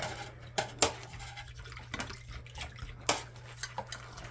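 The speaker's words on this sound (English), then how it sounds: "I'll take my toothbrush here and I'll go along my blades" A toothbrush scrubs along the blades of a pair of surgical-style scissors or hemostat near the box lock during kitchen decontamination, with soft bristle rasps, faint watery sounds and a few sharp metallic clicks over a steady low hum.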